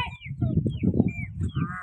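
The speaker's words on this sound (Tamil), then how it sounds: "நம்ம கோழிகள் எல்லாம் அடைய போகுது. ஷெட்டில் அடையிறதுக்கு ரெடியாக இருக்குது." A flock of chickens clusters at a shed while settling in to roost, keeping up a dense, continuous clucking and murmuring at close range with a few higher calls mixed in, and no talk.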